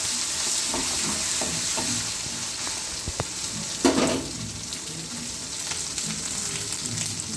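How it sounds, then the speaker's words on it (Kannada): A spoon stirs a ridge gourd stir-fry (palya) in a hot pan, with a steady sizzle, soft scraping strokes and a louder clatter near the middle, close up and without talk. "ಇನ್ನೊಂದು ಸತಿ ಮಿಕ್ಸ್ ಮಾಡ್ಕೊಳ್ಳುವ."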